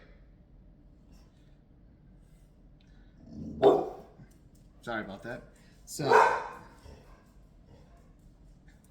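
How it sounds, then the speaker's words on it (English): A pet dog barks in a few loud bursts close by, a single bark then a double and another, while a person briefly talks over the commotion in a quiet home. "Dog's going crazy."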